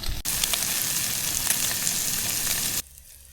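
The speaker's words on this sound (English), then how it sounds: "I like my bacon extra crispy, so it's going to take a little bit longer to cook than for most people" Bacon sizzles and spits steadily in a pan over an outdoor cooking setup by abbey ruins, cooked until extra crispy. The frying is loud and close, with a dense crackle that holds for nearly three seconds before cutting off abruptly.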